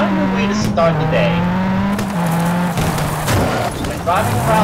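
WRC 3 rally car racing through Argentina, its engine humming steadily and dipping with shifts alongside skidding tires, loud and up close, with a voice calling out over the engine.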